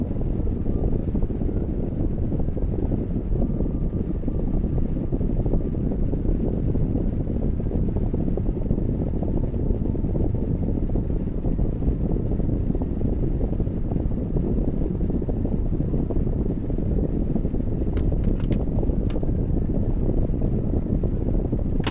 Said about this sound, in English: Wind is starting to blow outside.